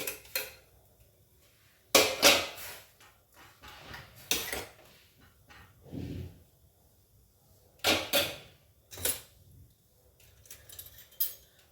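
Cucumber pieces for Telangana-style dosakaya pappu are tipped into a pressure cooker, making several loud, close clattering bursts of metal and spoon separated by quiet pauses.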